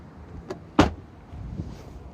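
Tesla Model S flush door handles popping out, heard as two short mechanical clicks, a faint one followed by a louder sharp clunk, then quiet background with soft movement noise; no one speaks.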